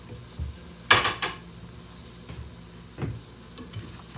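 Sandwich frying in a pan with Dollar Tree lunch meat, giving a low steady sizzle broken by a few sharp clattering bursts from handling the pan and utensils, one loud clank near the start and another softer one later.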